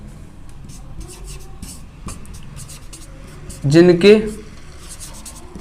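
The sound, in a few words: writing the definition on a board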